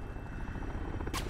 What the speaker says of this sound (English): there a helicopter?